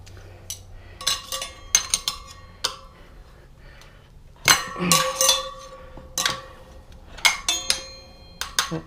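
Spoon clinking against a dish while eating, with a scattering of sharp metallic ticks and clinks in small bursts, fairly close, some overlapping as the spoon taps and scrapes.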